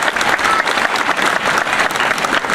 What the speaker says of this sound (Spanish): Así que démosle otro aplauso a ese personaje otra vez